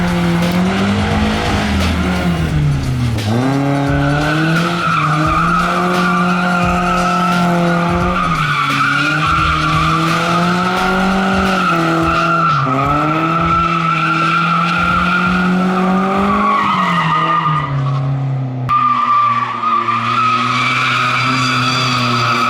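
Tires squeal and skid without a break as a car drifts on a public street, the loud screech sliding up and down in pitch with engine revs for over twenty seconds.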